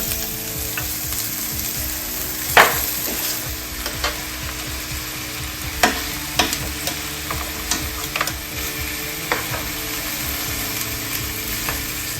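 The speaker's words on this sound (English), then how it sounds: "Oil a pan and begin to seal the ribs." Ribs searing in an oiled pan give off a loud, continuous sizzle, dotted with sharp crackles and occasional light taps throughout, with no voices.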